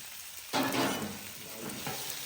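Tortellini bubble and sizzle in a pot during a Sunday lunch outdoors, a soft hiss that jumps up suddenly as the pot is stirred and then settles into a steady low simmer.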